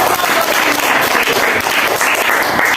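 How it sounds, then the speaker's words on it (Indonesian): Steady, dense applause from a classroom group of students, loud and close, continuing without a break for the whole stretch. "tepuk tangan dulu"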